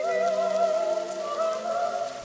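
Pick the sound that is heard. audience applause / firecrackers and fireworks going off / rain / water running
rain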